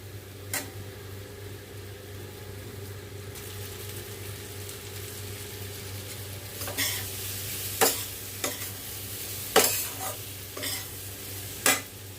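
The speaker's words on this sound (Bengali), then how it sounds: "এইভাবে 10 মিনিটের মতো নাড়াচাড়া করবো" Amla pickle stirred in a pan over low heat: a soft continuous sizzle beneath a low hum, broken by sharp scrapes and clinks of the spoon against the pan, coming more often toward the end.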